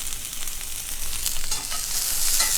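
Onions fry in a pan for empanada filling, producing a loud, close, continuous hissing sizzle that swells slightly toward the end. There is no talking.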